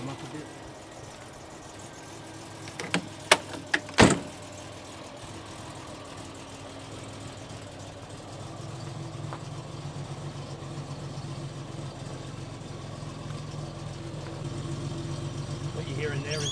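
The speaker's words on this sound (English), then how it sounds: "What you hear in there is the mighty roar of the 3 litre straight 6 cylinder" A few sharp clicks and clacks, then a Volvo 164E's 3-litre straight-six engine starts and settles into a steady, low idle that continues evenly, moderately close.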